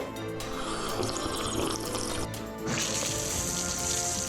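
Water runs steadily from a tap, a continuous splashing flow that keeps up throughout and brightens partway through, with no talking.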